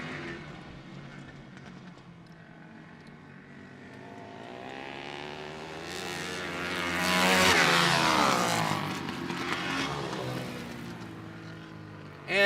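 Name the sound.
flat track motorcycles and quads racing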